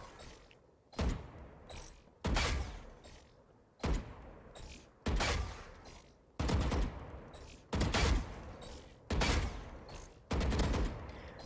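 Rapid bursts of gunfire from shooting practice bots in the tactical shooter game Valorant, about nine loud volleys spaced roughly a second and a half apart, each a dense crackle of shots followed by a brief decaying tail.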